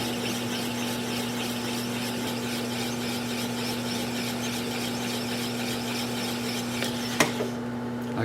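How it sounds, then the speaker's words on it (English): Wood lathe spinning an alder platter while a gouge cuts, a continuous steady hum with strong tonal drone and scraping texture, ending in a sharp tap as the motor winds down. "Right hand on the gouge, left hand on the switch, and when that little nub stops turning, you'll know we're through."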